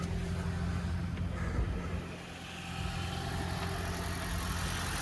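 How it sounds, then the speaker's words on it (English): The 1.8 petrol engine of a 2013 Toyota Prius runs at a steady low hum, quiet and even, with a slight dip midway. "So now the engine's kicked in."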